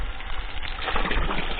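Water gushes steadily under pressure from a freshly hand-drilled garden irrigation well, a continuous near rushing splash that strengthens partway through.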